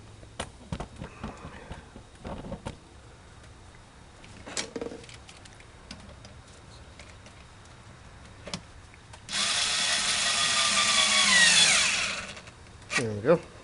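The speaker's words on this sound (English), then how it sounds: "Just attach two clamps together and then tighten them." Two hose clamps are tightened during upper plenum work on a VH41DE engine, with scattered clicks and taps before a short, loud whir of a powered driver lasting about two seconds, then a few more knocks.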